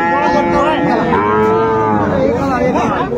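Sahiwal bull at a crowded cattle market, letting out a single loud, drawn-out moo that rises and falls close by, with market bustle underneath.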